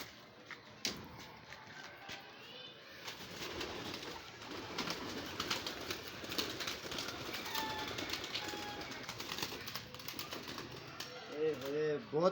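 Baby pigeons cheep and coo at close range among adult pigeons in a loft, with wing flutters and shuffling around them and people talking over much of it.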